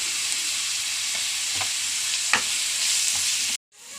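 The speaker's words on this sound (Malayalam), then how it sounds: "ഉള്ളി മുളകൊക്കെ വഴണ്ട് വന്നു." Onions and chilies sautéing in a pan for chicken cutlet filling, a steady close sizzle with a few sharp stirring scrapes before the sound cuts off abruptly near the end.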